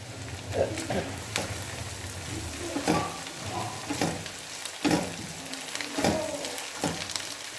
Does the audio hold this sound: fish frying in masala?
yes